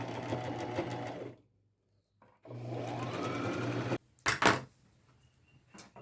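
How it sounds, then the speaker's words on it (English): Sewing machine stitching old crochet doilies into a long lace boho vest, two steady runs of about a second and a half each separated by silence, followed by a few sharp handling knocks. "I'm going to go get those sewn."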